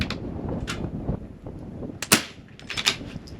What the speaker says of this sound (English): We're going to shoot to the far right.